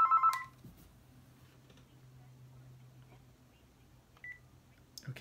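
A telephone being dialed for a cold call gives a short burst of beeps, then a steady low hum and one brief tone, all at close range and fairly quiet.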